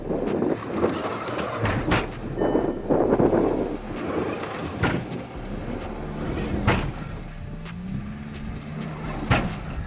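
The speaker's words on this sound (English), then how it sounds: "the Tiguan drives to the main obstacle" A Volkswagen Tiguan SUV crawls over a rock step off-road, its engine droning low under scattered knocks, thuds and creaks from the body and suspension, with wind buffeting the microphone throughout.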